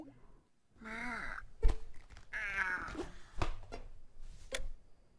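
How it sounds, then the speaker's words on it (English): A cat meows in the video game Night in the Woods, a long drawn-out cry with a falling pitch followed by a few shorter, breathy calls, close and fairly clear. "Precious cat child"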